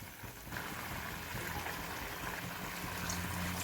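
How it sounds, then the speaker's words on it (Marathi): Water pours into a hot pan of seasoned dill greens, making a steady hissing, rushing wash that swells after the first half second and holds nearly level to the end, close and moderately loud. "यात अर्धा फुलपात्र आपण पाणी घालत आहोत"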